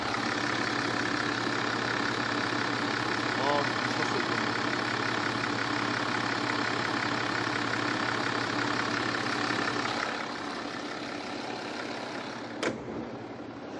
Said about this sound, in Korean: 이제 바로 엔진 소리 한번 들려드릴게요.